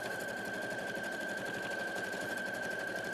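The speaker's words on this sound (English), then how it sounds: "Sewing machine at full throttle." A sewing machine runs flat out at full throttle with a steady, dense mechanical whir and a constant high whine, close and unbroken from start to finish.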